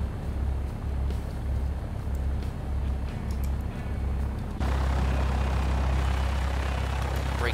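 An aircraft engine run-up in a flight simulator game, a steady droning engine hum that jumps to a louder, fuller roar partway through and holds there.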